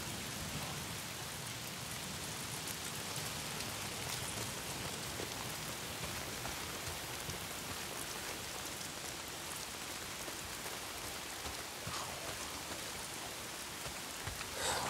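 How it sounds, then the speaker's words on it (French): Steady rain in the video game Days Gone pours down evenly as a constant hiss of drops, with no voices and no breaks. "Il faut toujours qu'il pleuve."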